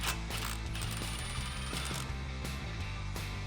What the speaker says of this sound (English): using an 8 millimeter socket, we're going to remove the bolt holding in our wheel speed sensor